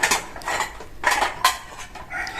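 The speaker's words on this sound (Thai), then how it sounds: "คุณบัวชุมกับลูกสาวกำลังเลือกจาน จาน จานชามค่ะ" Plates and bowls clink and clatter in a series of short bursts as they are handled and sorted at a temple in Thailand, fairly close and with no talk over them.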